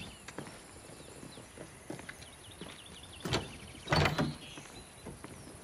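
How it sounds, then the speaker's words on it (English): A key scrapes and clicks in a door lock in a quiet room, a few small metallic taps and rattles followed by a sharper clunk and a louder rattling thud as the door opens. "There's a key in the door."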